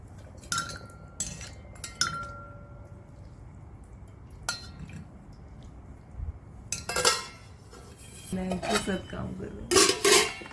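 A metal spoon clinks against pots and a plate while rice and lentil dal curry are served, with scattered scrapes and taps that grow busier and louder toward the end, and a voice speaking briefly.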